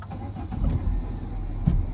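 A Peugeot 207 VTi petrol engine cranks and catches, settling into a steady mid-pitched running sound close by, with no voices over it.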